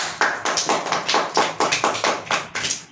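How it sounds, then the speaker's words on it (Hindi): Hands clap in a quick, steady rhythm during a children's storytelling session: about a dozen sharp, close claps in three seconds, loud and distinct, with no talking over them. "पहले ताली बजा"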